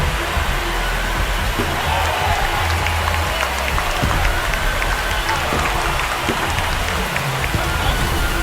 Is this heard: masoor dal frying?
no